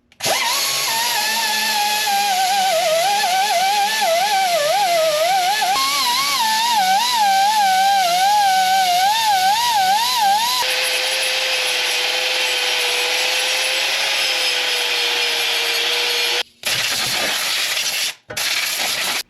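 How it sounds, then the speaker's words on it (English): A power tool cleans rust out of a steering knuckle wheel-bearing bore on a 2013-18 Ram 2500-3500, whining loudly close by with a wavering, wobbling pitch as it grinds, then cutting out twice near the end. "you want to get in here, clean the rust out"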